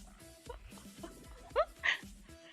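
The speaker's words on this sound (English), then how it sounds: "I forgot the notification noise was a dog barking." A livestream notification alert plays as a dog barking: two short, bright yips stand out over steady background music and faint room sound.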